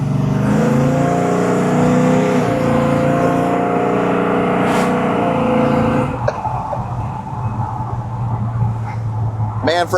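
A 1956 Chevrolet 210 custom coupe with a big block engine revs and accelerates hard, a loud close roar that climbs for several seconds before easing off into a lower cruising drone.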